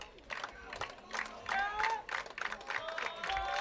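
Home crowd at a high school baseball playoff game between Berwick and Jewel Sumner cheering and clapping in rising, uneven bursts, with scattered voices shouting over the noise.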